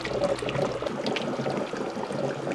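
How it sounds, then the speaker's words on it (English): Water bubbling and gurgling steadily as a 130-volt hydrogen generator cell on 120 V AC house power circulates it from the reservoir and returns it, bubbling, back into the reservoir; a continuous close liquid churn with no talk. "It does circulate the water down out of the reservoir into the bottom, produces hydrogen, and bubbles back up into the reservoir."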